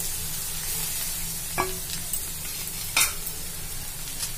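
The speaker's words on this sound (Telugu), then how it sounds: "బీట్రూట్ అయితే మంచిగా ఇట్లా ఇట్లా ఇట్లా ఇట్లా కొంచెం వెడల్పుగా అనుకుంటే కొంచెం మంచిగా ఫ్రై అవుతుంది" Grated beetroot fries in a pan with garlic, making a soft steady sizzle broken by a couple of sharp scraping stirs of the spoon, close and alone.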